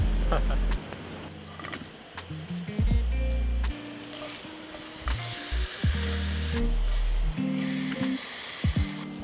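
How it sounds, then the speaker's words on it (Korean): Meat sizzling on a small, cheap portable burner inside a car, a steady close frying hiss with clatters of utensils, under someone talking and bursts of background music. "고기도 구워 먹겠습니다"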